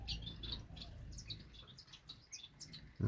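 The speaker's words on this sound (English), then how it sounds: "that's the Indian silverbill." Indian silverbill calling inside a birdshed: faint, high chirps and tweets scattered quickly throughout, heard close, ending with a brief low thump.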